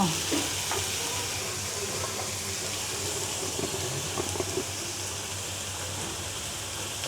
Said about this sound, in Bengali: একটু আদার পেঁয়াজ বাটা সব দিয়ে এখন আমি একটু নেড়ে চেড়ে দিচ্ছি